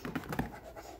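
A dog breathes in quick, rhythmic pants close to the microphone, a few audible huffs over about a second, fairly soft in a quiet indoor room.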